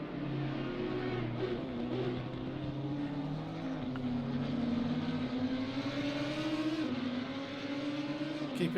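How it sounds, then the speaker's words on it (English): Race cars lap the Misano circuit in a sim racing game, their engines droning at steady high revs with a shifting pitch as one car closes on another down the back straight, heard fairly quietly throughout. "he is in the slipstream of Soggetti here, so closing as they go down the back straight"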